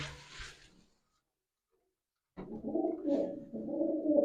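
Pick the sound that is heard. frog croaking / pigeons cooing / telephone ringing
pigeons cooing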